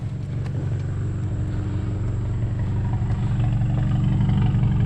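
Cold VW MK7 GTI with a Mamba GTX3071R turbo idling, a low uneven rumbling idle with a slightly choppy pulse, steady and close throughout with no talking.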